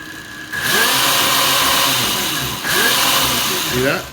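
An electric Predator motorcycle's motor whines up at full throttle in two rising surges, with a steady tonal hum that climbs and holds. Close and loud, with talking over it.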